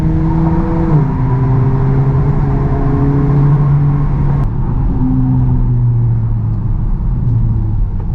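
A car drives through a tunnel at night, its steady engine hum and road roar loud and enclosed, with gear-change pitch drops and a droning reverberant tone throughout, no talking.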